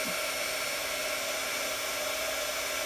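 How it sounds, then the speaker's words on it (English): An embossing heat gun blows steadily, a loud, even whooshing hiss with a faint motor whine that holds unchanged throughout. "now you want to heat up your gun and make sure it's really nice and hot"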